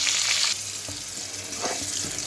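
Pointed gourds frying in oil, a close, steady sizzle with bright spitting at the start and a couple of soft stirring knocks in the pan.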